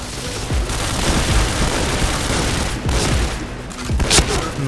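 Dense, continuous gunfire in the Point Blank shooter game, with overlapping shots and booms packed close together at a loud, steady level, with no clear pauses.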